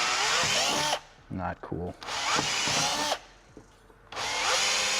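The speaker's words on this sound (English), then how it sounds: "we're opening up the holes to a little bit over a 1/4 inch right now for M6 hardware" Close power drill boring holes in the plastic of a carbon swan neck wing for an MKV Supra, in three loud high-pitched whining bursts, with someone speaking briefly during a pause.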